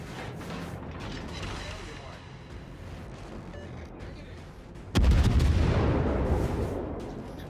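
Artillery fire in a video game, a sudden heavy boom at about five seconds followed by a loud rumbling barrage, with a steady mechanical and gunfire background and a voice talking over it.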